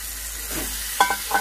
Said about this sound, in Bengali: আলুটার সঙ্গে মশলাটা ভালোভাবে কষিয়ে নিচ্ছি।